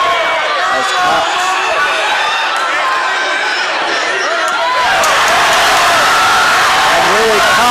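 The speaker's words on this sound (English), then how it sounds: "Willie Cox gets the crowd erupted with a takedown" A wrestling crowd at Shorter versus Montevallo swells into loud cheering and shouting after a takedown, a dense roar that builds and stays strong to the end.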